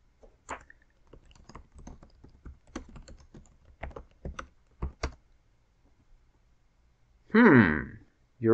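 Computer keyboard keys typed in a stretch of uneven, close clicks while writing a Word document, followed by a voice speaking briefly near the end.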